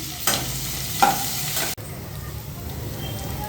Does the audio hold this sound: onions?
yes